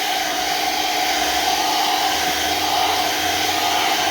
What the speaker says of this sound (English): This time I got the blow dryer on high. And I'm just blowing through all these vents here.